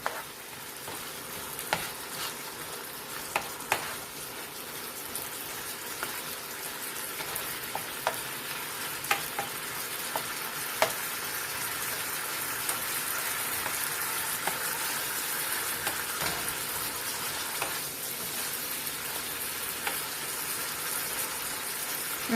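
Roast beef heats in gravy in a pan over medium heat, giving a steady, soft sizzle and crackle with scattered pops throughout, no voices.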